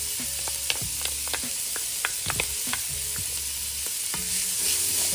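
Onions and garlic sautéing in a pot, a steady close sizzle broken by repeated scraping and clinking of a stirring utensil against the pot, with no talking.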